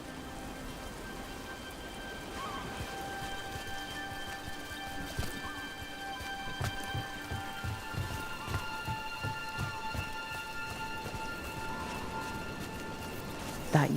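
Steady rain falls across a game scene in Dragon Age: The Veilguard, a soft continuous patter with a few footstep-like clops and light knocks mixed in, all at moderate level with faint background music tones and no clear talk.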